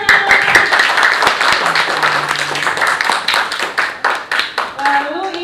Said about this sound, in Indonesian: Beri tepuk tangan untuk Kersia.